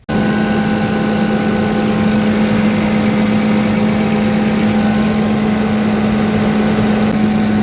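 A farm engine running short of fuel, a loud steady close-up drone with a strong low hum and constant vibration, continuous for the whole stretch with no talking.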